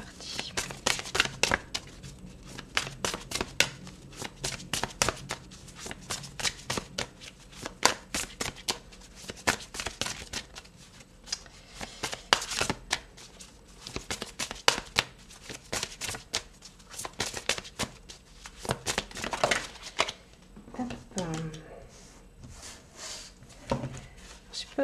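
Tarot cards are shuffled by hand in repeated riffling bursts of crisp, close paper flutter, with someone speaking French over much of it.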